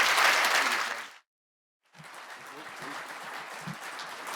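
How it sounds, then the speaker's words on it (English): An audience applauds in a dense burst of clapping that fades out, then after a short gap a second, quieter wave of clapping with crowd noise carries on. "So please give a big round of applause for Harry."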